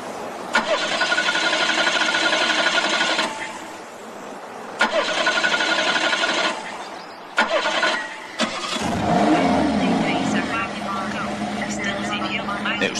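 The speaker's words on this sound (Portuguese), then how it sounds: "Por que não liga o motor pra eu ouvir?" A car engine in a classic film cranks in repeated attempts, catches, and then idles unevenly, with people talking over it.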